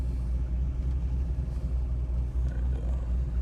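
A C5 Corvette with a swapped LS6 V8, around 95,000 miles, idles steadily at close range, giving a smooth, even low rumble with no revving.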